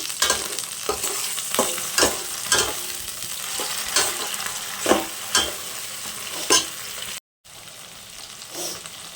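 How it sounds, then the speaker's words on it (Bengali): Ginger and garlic fry with a steady sizzle while a utensil scrapes and knocks the pan in a regular stirring rhythm, close and clear, with a brief dropout near the end. "এরপরে দিয়ে দেবো আদা রসুন"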